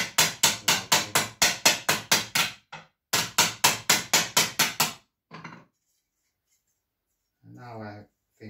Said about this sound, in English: And I'll just hammer it from the inside.